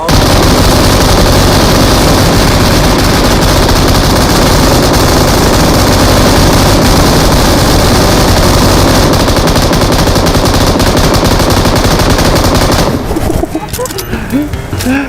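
An M249 light machine gun in PUBG Mobile fires one long, loud, unbroken automatic burst for about thirteen seconds, then cuts off into quieter game sounds.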